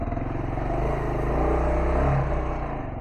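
A Kawasaki KLR650 dual-sport motorcycle on Shinko 244 tires rides along with a steady, loud engine drone that swells slightly through the middle, rolling over rough ground with some clatter.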